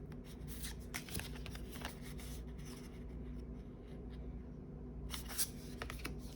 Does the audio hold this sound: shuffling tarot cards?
yes